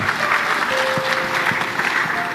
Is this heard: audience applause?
yes